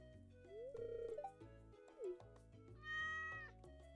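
A cat in the farming video game Stardew Valley lets out several soft, quiet meows, mixed with chiming game tones and a brighter jingle near the end.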